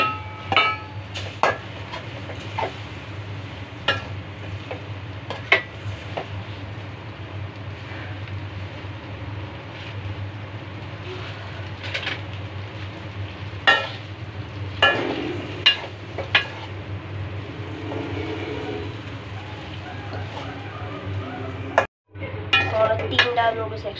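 Noodles tipped into a pan and stirred, with repeated metallic clinks and scrapes of a utensil against cookware at close range over a constant low hum, a couple of louder knocks near the end.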